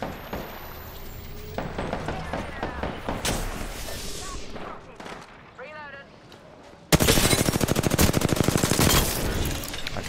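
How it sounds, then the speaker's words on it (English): Gunfire in an Apex Legends–style shooter, including charge rifle fire from a bridge, rattling in fast repeated bursts, with a sudden loud, dense volley near the end and voices talking over the action. "Charge rifle on the bridge."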